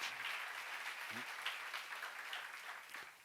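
A congregation applauds during a sermon, a soft, distant patter of many hands that stays steady throughout, with a brief murmured voice early on.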